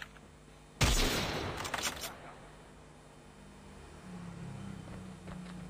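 A sharp burst of sniper gunfire in the mobile shooter game Call of Duty Mobile, loud and close, followed by a short crackling tail and then quieter game ambience.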